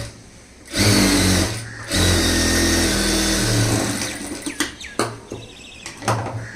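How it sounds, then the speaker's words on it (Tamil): A sewing machine stitching the lining cloth of a blouse runs in two loud, steady whirring bursts close by, followed by scattered clicks and handling knocks as the fabric is repositioned. "கரெக்டாக வச்சுட்டு தையல் போட்டுடலாம்"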